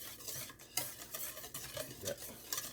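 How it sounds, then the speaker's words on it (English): A whisk stirs a sugar and yeast mixture for cinnamon roll dough in a bowl, with close, steady scraping strokes and a few sharper clinks against the bowl at irregular intervals, no voices. "we're going to whisk all that together, just like that there"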